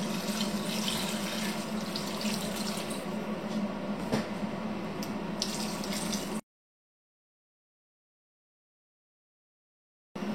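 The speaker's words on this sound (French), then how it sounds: "On va venir mouiller avec l'eau, de l'eau froide." Cold water streams steadily from a tap into a pot of vegetables for soup, a continuous splashing rush for several seconds before stopping abruptly into silence, with a brief burst at the very end.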